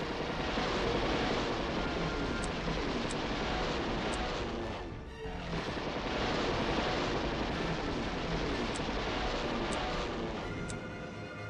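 Airplane in the World War II strategy game Panzer General II, a continuous droning engine roar that holds steady, dips briefly midway, then resumes at the same level with faint high tones.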